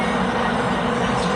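A local train rumbles along in a train simulator game, a steady dense engine and wheel drone, even and continuous throughout with no voices.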